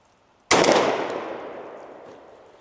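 Single loud shotgun blast from a turkey gun firing a TSS shell at a target, a sharp close report followed by a long fading echo outdoors.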